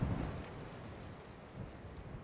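A gust of storm wind buffets a microphone outdoors, producing a low, rumbling roar that swells and eases over a couple of seconds with no other clear sound.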